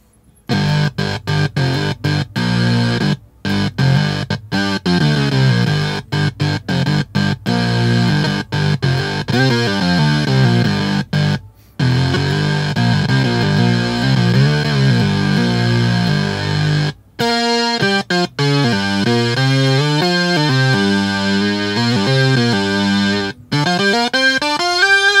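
Electro-Harmonix Mono Synth pedal on its Unison setting, a thick distorted synth line of rapid stabs and gliding pitch sweeps, loud and continuous with brief dropouts and no talking.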